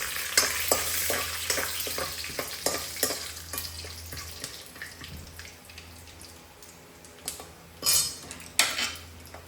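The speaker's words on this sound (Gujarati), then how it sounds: "સિંગદાણા પણ એડ કરશું સિંગદાણા થોડી વાર ચડાવશું આપણે એટલે શેકાઈ જાય એકદમ સરસ" Peanuts roasting in a pan with curry leaves for sabudana khichdi, a soft steady frying hiss with clinking stirring taps spread through, louder scrapes near the end, no voices.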